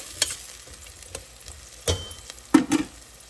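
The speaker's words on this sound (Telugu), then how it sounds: "ఉల్లిపాయలు వేగుతున్నప్పుడు బంగాళదుంప ముక్కలు కూడా వేయాలి. శుభ్రంగా ఒక్కసారి ఇట్లా కలపాలి." Potato pieces and onions frying in a pan are stirred, giving a steady low sizzle broken by a few louder scraping stirs near the end.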